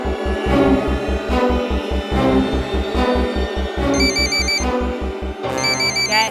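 A mobile phone ringtone plays loudly, a repeating rhythmic electronic tune with a pulsing beat and bright beeping tones, continuing for several seconds without talk.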